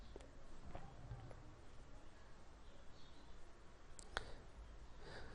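Computer mouse clicks on a profile name, a few faint, sharp clicks spread across a quiet room background.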